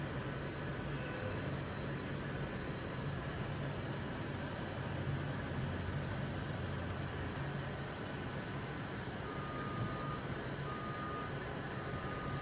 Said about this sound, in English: That is actually a feed truck on this farm.